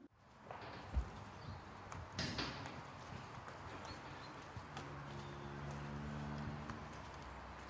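A dairy cow walks on a farm during a mobility check, its hooves making a series of quiet, irregular clopping steps over a hum of background noise. The footfalls sound mid-distance and faint, with no talk.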